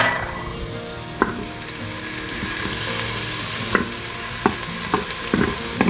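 Chopped onion sautéing in butter in a pot gives a steady close sizzle, with a few sharp clicks of a utensil stirring and scraping against the pan.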